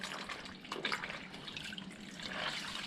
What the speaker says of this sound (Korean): 뭐 좀 오염이 됐다 싶으면은 다시 한번 빨아 가지고